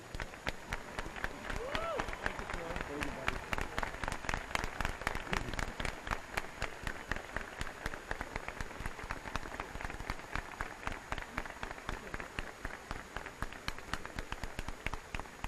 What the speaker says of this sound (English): I would now ask everybody in this stadium to stand and give a round of applause